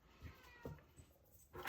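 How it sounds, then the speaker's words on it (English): A cat meows several times in short, close, soft cries, with a louder meow at the end, in a quiet room. "Please excuse my cat."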